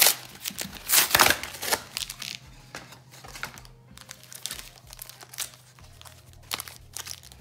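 Pokémon card booster packs and plastic blister packaging are unwrapped close up, with bursts of crinkling and tearing plastic, crisp crackles and small taps, loudest early on and then quieter and more scattered.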